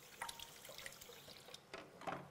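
Water is poured into a cooking pot while a Cameroonian ndole dish is being made. It comes as a faint, brief splashing burst near the end of a quiet kitchen moment.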